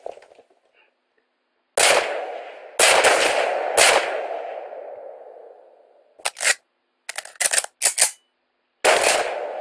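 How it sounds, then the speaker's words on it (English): Gunfire in Minecraft: three heavy shots with long fading tails, then a quick run of sharp, clipped bursts, loud and close with no voices. "That's a gun!"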